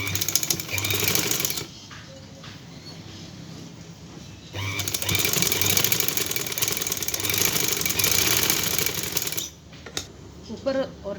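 A sewing machine stitches a trouser in rapid, steady bursts of mechanical whirring and needle chatter, running for a few seconds, pausing briefly, then running again, fairly close and loud.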